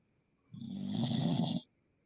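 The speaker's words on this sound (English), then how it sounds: "Somebody is snoring as well." Someone snoring over an open call line, one drawn-out rasping inhale lasting about a second, moderately loud and alone against a quiet background.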